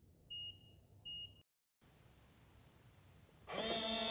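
A Weiser Kevo smart lock sounds two short, high beeps when touched, quiet and close, then after a brief gap a louder bright chime.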